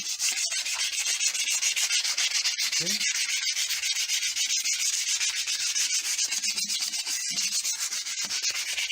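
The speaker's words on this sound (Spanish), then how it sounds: "Yo comencé primero lijando un poco" Steady, continuous rasping of sanding on a suspension fork, a broadband scratchy hiss that runs without pause, with a brief faint spoken word partway through.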